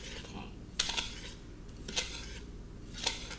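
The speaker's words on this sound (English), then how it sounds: "And how long do you mix this for, Sarah?" Vegan cupcake batter of whole wheat flour and sugar is mixed in a bowl, with three distinct utensil scrapes and clinks against the bowl over a faint, quiet background.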